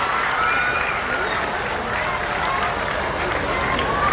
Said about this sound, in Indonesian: Kita berikan aplaus yang luar biasa